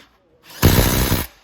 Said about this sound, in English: socket on the gun, and now we'll just go over and tighten all the bolts.